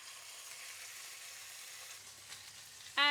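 Sirloin steak searing in a hot pan with rosemary, a steady close sizzle and frying hiss running throughout, with a brief sharper clatter at the very end.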